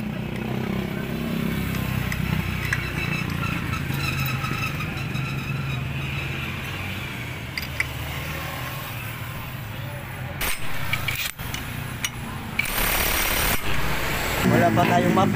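A Yamaha Mio i 125 scooter engine runs without a muffler after a cylinder block kit replacement, a loud, steady, rough mechanical clatter that carries on throughout, with a few sharp bursts and a louder rise near the end.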